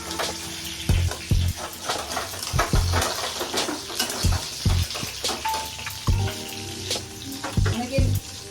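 Ridge gourd pieces frying in a pan: a continuous sizzle broken by repeated low knocks and scrapes as the pieces are moved, close and fairly loud, with no talking.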